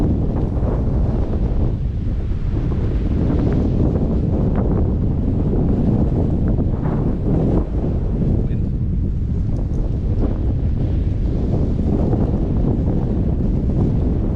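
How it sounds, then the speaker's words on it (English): Strong wind gust roaring through trees at Black Rock Forest in New York, a sustained broadband rush with heavy buffeting on the mic that swells and eases but never drops out. "So we get a really good gust here. This one sounds like a good one."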